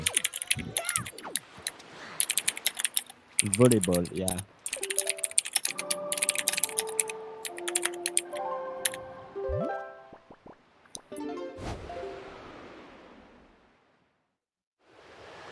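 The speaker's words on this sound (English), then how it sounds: "Keyboard is loud." Loud, rapid clacking of computer keyboard keys in quick bursts during a Wind Waker speedrun tournament, with scattered casual talk and some tonal game-like sounds mixed in.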